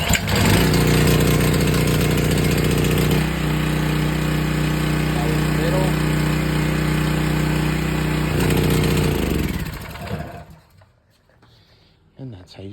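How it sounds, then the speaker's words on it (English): A Sportsman 4000W dual fuel generator, started with the choke set to start, fires up and settles into a loud, steady engine drone with shifting pitch, then cuts off and the sound dies away near the end. "And that's how you start the generator."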